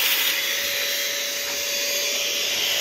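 Electric PC air duster blowing continuously at close range, a loud steady broadband rush of air with a faint tonal whine, alone.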